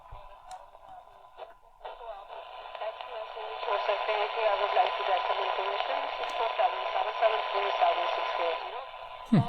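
AM broadcast on a General Electric P4720 portable radio, a faint hissy station with a voice coming through static and fading in and out, rising slightly in level.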